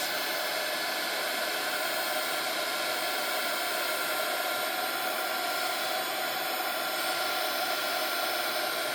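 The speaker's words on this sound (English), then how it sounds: "We're going to run this heat gun for a minute and see what happens when we dry this mica powder into this texture paste" A heat gun blows steadily and loudly at close range as it dries mica powder worked into texture paste, giving an unbroken airy roar from start to finish with no voices.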